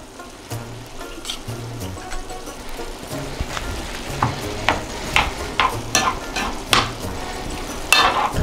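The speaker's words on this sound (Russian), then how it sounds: "Пока томится наша свекла в зажарке" Beetroot stewing with broth and tomato paste in a pan sizzles softly underneath while a utensil stirs and scrapes, producing irregular clinks and knocks against the pan that grow more frequent over time.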